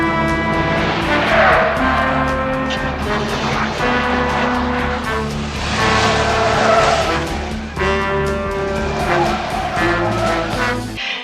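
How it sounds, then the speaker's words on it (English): A car pulls away hard with loud, sustained tire squeals and a revving engine, with several long skidding swells across about eleven seconds, close and dominant, with no one speaking. "Allen, the supervisor's getting in his car and is apparently going to follow"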